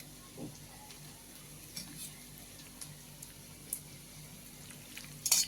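Ravan pithla, a spicy gram flour dish, is stirred on a tava with a soft, low sizzle and a few light scrapes and taps of the spatula, ending in a brief louder clatter.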